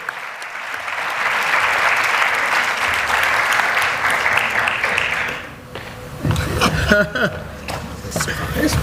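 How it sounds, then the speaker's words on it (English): Large audience applauding at a CUNY Citizenship Now event, a loud sustained roar of clapping for about five seconds that fades, followed by a speaker talking with scattered claps and murmurs. "Let's give him a tremendous round of applause"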